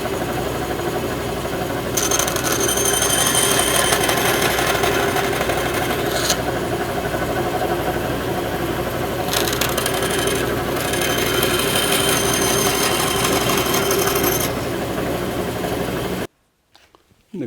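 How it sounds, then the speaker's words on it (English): A bandsaw cuts wood for an upper kitchen cabinet in a small workshop, a loud continuous buzzing rasp close by with brief changes in load, then it stops abruptly. "Yeah, the bandsaw's a bit of a cheat, but it'll go real quick."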